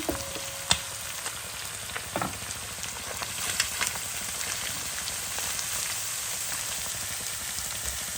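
Meat with onion and carrot fries in a pan with a steady crackling sizzle, plus a few sharp clinks from a utensil near the start.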